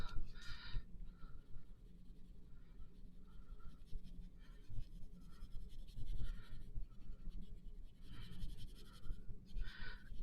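Colored pencils scratch across paper in quick overlapping blending strokes. The rhythmic back-and-forth scratching is close and comes in short bursts with brief pauses, and no voice is heard.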